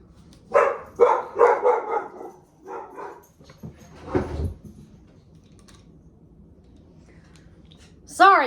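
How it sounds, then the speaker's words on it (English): Several dogs bark in a short burst of sharp, close yelps at a passing Amazon delivery man down the street, followed by a quieter pause and a final high yelp. "The Amazon man is down the street and the dogs just went nuts."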